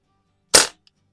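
Buck Rail Diana Chaser air pistol fired once with a moderator in a garage, a single short, muffled pop, close and fairly loud, followed by a faint tiny tick.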